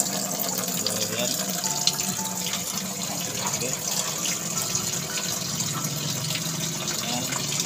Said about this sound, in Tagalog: Sa gripo nga lang ako kumukuha